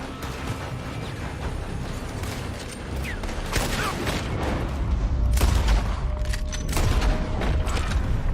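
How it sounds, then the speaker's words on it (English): Gunfire from a building during a Red Dead Redemption 2 shootout, scattered loud shots and booms over a dense game soundscape, growing busier toward the end. "They're shooting from that building."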